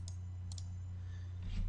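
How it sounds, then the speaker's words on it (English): A computer mouse clicks while a game level and title screen are renamed on a Windows-style editor: a few sharp clicks, two close together, over a steady low electrical hum. "And all I'm doing is I'm clicking, pausing, clicking, just like you do in Windows."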